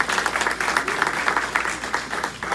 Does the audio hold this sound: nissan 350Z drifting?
no